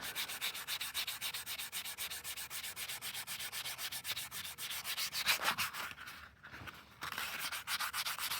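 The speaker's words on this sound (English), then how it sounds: "So now we're going to take this little cloth, rub it." A small cloth rubbed briskly over a Small Block Chevy engine block freshly cleaned with a wire wheel, giving a fast, steady back-and-forth scrubbing rasp. It is close and continuous, with a short pause near the end before it resumes.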